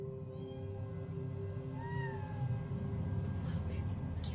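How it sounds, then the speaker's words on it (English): Cat meowing inside a house, several drawn-out rising and falling calls near the middle, over a steady background hum and low murmuring. "mysterious cat wandering through her house."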